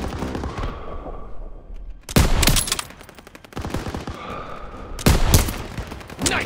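Bursts of rapid gunfire from a World War II battle in Call of Duty WWII, loud close volleys with machine-gun chatter in two heavy clusters, separated by quieter stretches of distant shooting and rumble.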